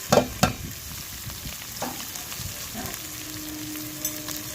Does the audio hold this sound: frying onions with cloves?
yes